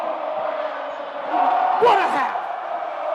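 A women's college basketball crowd at a conference semifinal against Notre Dame swells into a roar late in the game, loud and steady, with a commentator talking over it.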